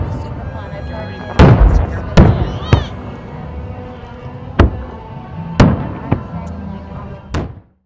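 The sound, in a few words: fireworks show exploding at Pahrump Nugget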